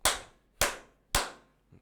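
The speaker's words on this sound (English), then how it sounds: "Bro, I'm gonna clap." Three sharp, loud hand claps at even intervals, each ringing briefly into a small indoor room, close to the microphone and alone with no talk over them.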